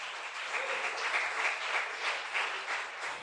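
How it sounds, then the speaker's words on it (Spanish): Sustained applause from a church congregation, a dense patter of many hands clapping at an even level throughout. "Dele fuerte el aplauso a Dios."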